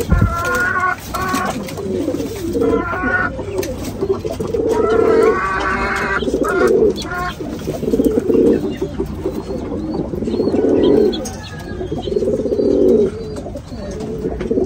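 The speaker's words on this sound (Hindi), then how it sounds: "ये मेरा टैडी है, बहुत बड़ा कबूतर है" Large pet pigeons cooing, repeated throaty coos in bouts close to the listener, with a voice talking in places between them.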